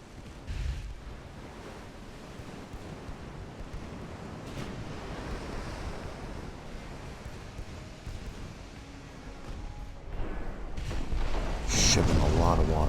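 Sea waves wash over a warship in the naval game Ultimate Admiral: Dreadnoughts, a continuous rumbling surge with wind noise that swells louder toward the end, with a sharp splash-like burst late on.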